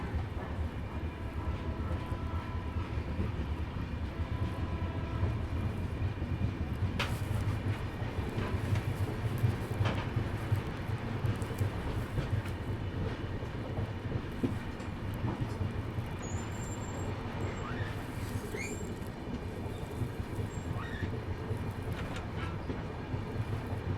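The Amrapali Express pulls out of an Indian station, a continuous low rumble of rolling railcars with steady clatter and faint squeals, heard from close by without talk.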